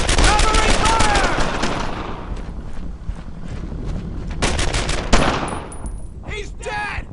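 Dense bursts of automatic gunfire and machine-gun fire from the World War II shooter Brothers in Arms: Earned in Blood, loud and close, rattling in strings with brief lulls between volleys, and someone shouting over the battle near the end.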